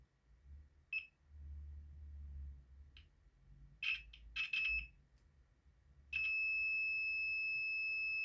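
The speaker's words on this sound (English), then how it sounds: "it's a dead short on there. I'm getting 1 ohms through that on my multimeter" A multimeter continuity tester probes drain to source on a shorted MOSFET during a Cyberpower Fangbook HX6 laptop repair. A few short, sharp beeps sound first, then a steady, loud continuous tone holds to the end over a low background hum.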